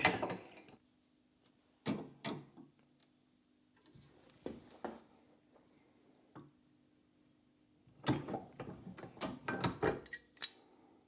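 A socket ratchet turns a part into the fuel pump of a classic Land Rover Series 2A, with scattered short clicking bursts and pauses, then a denser run of rapid close ratchet clicks toward the end.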